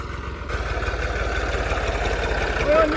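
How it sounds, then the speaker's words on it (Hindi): A tractor pulls up at a paddy field with a loud, close diesel engine idling in a steady, rapid chug. A brief high chirp rises near the end. "ये ट्रैक्टर वाला आ रहा है जी।"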